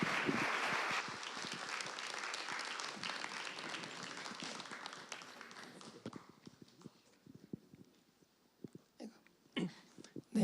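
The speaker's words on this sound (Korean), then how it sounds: "박수로 환영드리겠습니다." Church congregation applauding to welcome a family registering as new members at a Sunday worship service, a dense burst of clapping that thins out after about six seconds into scattered claps.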